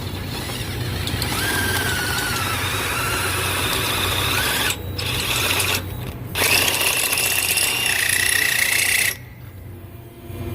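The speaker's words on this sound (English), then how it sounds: "I ream these holes out with a reamer." Hand reamer working the wheel bearing holes in the steering knuckle of a 2016 Ford Explorer 4x4, a steady scraping metallic grind with rising squeaky tones, broken by a few brief pauses.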